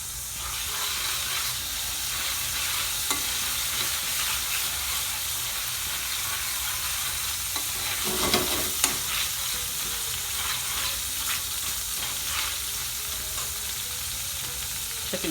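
Ginger and garlic paste fries in a pan for a chicken saag curry, giving a steady loud sizzle and hiss with occasional scraping stirs and clatters of a utensil against the pan.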